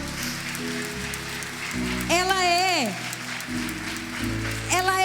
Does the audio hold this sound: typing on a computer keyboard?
no